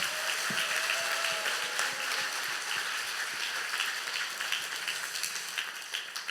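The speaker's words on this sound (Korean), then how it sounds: "다시 한번 우리 격려의 박수 한번 보내주시기 바랍니다" Audience at a church evangelism retreat talk concert clapping in encouragement, a loud, sustained crowd applause with dense overlapping claps throughout.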